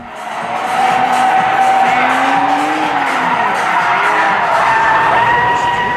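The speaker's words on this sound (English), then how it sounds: "We're at the 2017 SEMA show drifting in a Kia." A 2018 Kia Stinger GT drifts at the 2017 SEMA show with loud, sustained tire squeal that wavers in pitch over the engine, and faint crowd noise behind it.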